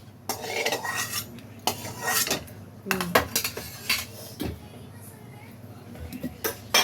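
A metal ladle stirs and scrapes roasted peanuts and dried chillies around a pan in close, busy bursts, with scattered clinks and rattles that come and go.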